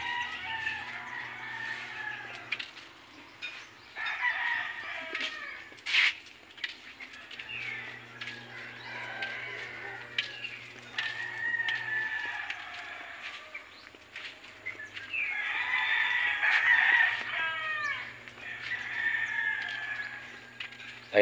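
Gamecocks being trained on a farm, with roosters crowing repeatedly and clucking at moderate distance over a low hum, several overlapping calls across the stretch.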